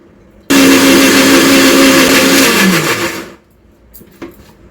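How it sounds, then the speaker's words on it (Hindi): A kitchen mixer grinder grinds soaked lentils into pakora batter, a loud steady whirring burst of about three seconds with a falling motor pitch as it winds down, then stops abruptly, leaving faint clatter. "तो अभी ये दाल भी पिस करके तैयार हो गई है और ये मिक्सी में उठा के रख देती हूँ।"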